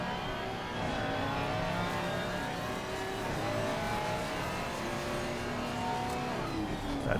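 GT3 race car in the ACC racing game at the Nürburgring, its engine droning and revving continuously throughout with rising pitch sweeps as it accelerates, loud and steady.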